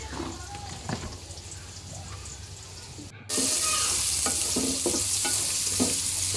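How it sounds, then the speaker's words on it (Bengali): Onions frying in hot oil on a stove, a steady sizzle with occasional stirring scrapes that jumps noticeably louder and brighter partway through, with no talking. "পেঁয়াজটার একটু লাল লাল করে বাজুন দেখা অনেকক্ষণ ধরে চুলার মধ্যে"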